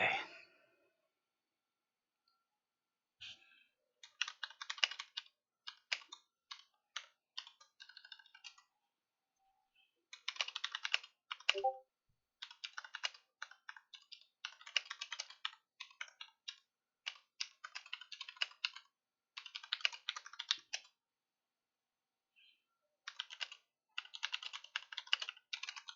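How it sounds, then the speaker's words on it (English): Bursts of rapid computer keyboard typing, close and fairly loud, come in irregular clusters separated by short pauses, with no talking. "my keyboard's going crazy when I don't want it to go crazy"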